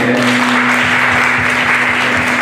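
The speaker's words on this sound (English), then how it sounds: "Let's give them a big clap." An audience claps steadily at a grand opening, a dense, loud and continuous round of applause with no voices on top.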